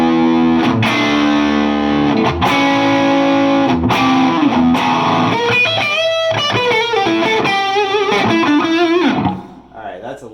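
Electric guitar pushed through an amp cranked all the way up, heavily distorted and loud, with chords and bending lead notes crowding together before a sudden drop into quieter noise at the end.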